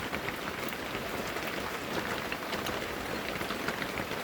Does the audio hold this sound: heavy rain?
yes